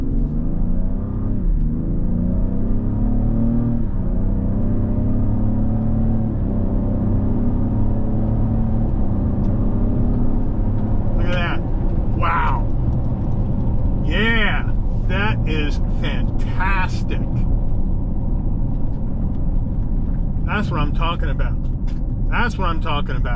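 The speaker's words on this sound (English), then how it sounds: "we're going to take off, see what this engine can do. And I'll be quiet so you can hear this wonderful sound." A 2024 Ford Explorer ST accelerates from inside the cabin, its engine droning low and rising steadily through the gears for the first ten seconds, then settling to a quieter cruise with short bursts of higher noise.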